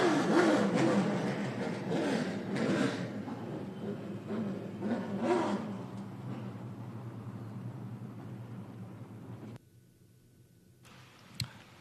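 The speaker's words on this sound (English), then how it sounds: "Drivers, start your engines." Stock race car engines fire up and rev at Caraway Speedway during a CARS Tour event, a loud mass of engine roar that swells and falls. It fades toward the end, where a sharp clack stands out.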